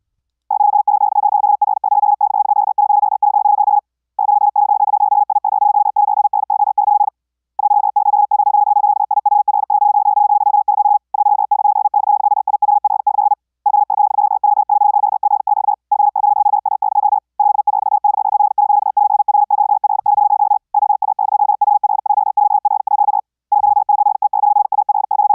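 Very fast CW Morse code sent from ZamGate keyer software, a steady pure tone keyed in rapid unbroken runs separated by short gaps, loud and alone with no talk.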